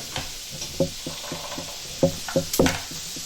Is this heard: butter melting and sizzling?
yes